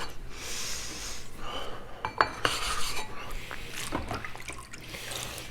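Knife blade scraping across a whetstone, a Shapton Kuromaku Professional or Suehiro Debado 1k, giving irregular gritty strokes with a few sharp metallic clinks, close and moderately loud with no talk.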